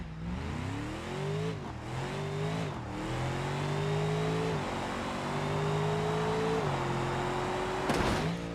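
A Mercedes car engine in a racing video game revs in repeated rising pulls, each climbing in pitch before dropping back at a gear change, loud and close with a short clatter near the end.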